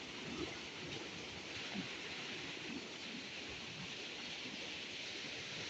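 Steady broadband wash of flowing water, likely runoff pouring through flooded rice paddies just after rain, continuous and fairly close with no voices over it.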